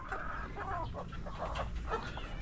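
Rhode Island Red rooster clucking nearby, a steady run of short throaty calls over low background rumble.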